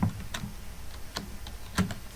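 A few keystrokes are typed on a computer keyboard while entering a single word in a Microsoft Word document, heard as sparse, irregular soft clicks close by with quiet pauses between them.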